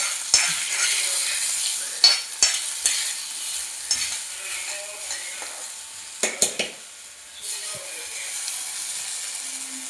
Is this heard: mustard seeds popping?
yes